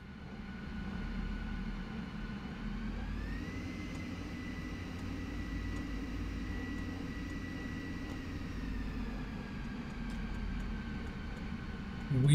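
Steady jet engine whine from an F-14 taxiing and turning in Microsoft Flight Simulator, a continuous close drone with a slight pitch rise partway through and no talk.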